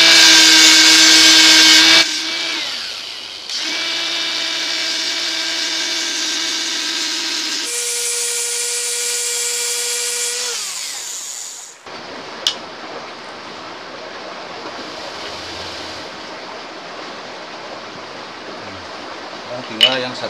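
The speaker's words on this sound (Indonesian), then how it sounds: "Terus pakai biasa mesin amplas." An electric sander works over a small machete sheath, its steady whirring drone running in several long passes broken by brief pauses, close and fairly loud, shifting to a rougher, quieter texture in the final stretch.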